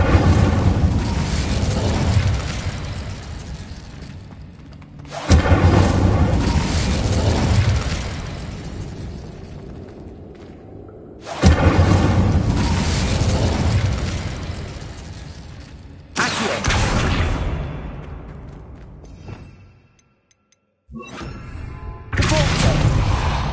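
Incendio fire spell cast in Hogwarts Legacy, heard as four loud whooshing, booming bursts that each flare up and then fade out over several seconds, with a brief near-silent gap before the last one.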